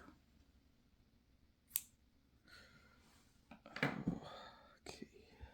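Scissors snip a yarn tail after fastening off a crochet cardigan, a few sharp close cuts spaced over a few seconds amid soft handling noise and whispery breathing.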